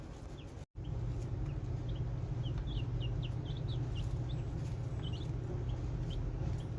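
Baby chicks peep in a steady scatter of high, thin chirps over a constant low hum, close by and with no talking.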